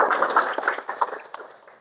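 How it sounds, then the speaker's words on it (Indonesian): A short burst of clapping from a classroom of students, lively and uneven, fading over under two seconds. "Tepuk tangan dulu untuk kita semua."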